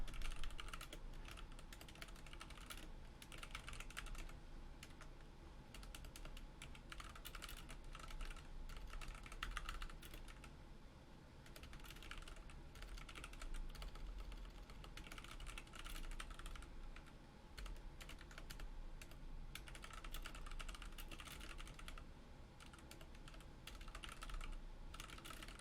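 Quiet, rapid typing on a computer keyboard goes on for about 25 seconds, with bursts of clicking keystrokes separated by short pauses, heard close up with no talking.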